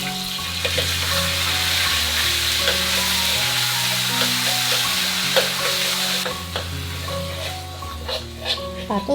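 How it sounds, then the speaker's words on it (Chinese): Doubanjiang chili bean paste stir-fries in a generous amount of oil for mapo tofu, making a loud, continuous sizzle with scraping stirs. A low musical backing plays underneath throughout. "把豆瓣酱炒香"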